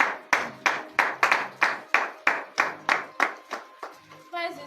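A congregation at a morning prayer service claps in a steady, evenly spaced rhythm, about a dozen sharp beats close by, with faint voices at the end.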